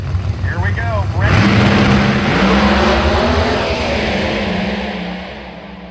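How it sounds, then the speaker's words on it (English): Drag racing cars launching down the strip, a sudden loud roar that builds and holds for several seconds before fading as they pull away, with voices heard briefly before the launch. "What a great drag race."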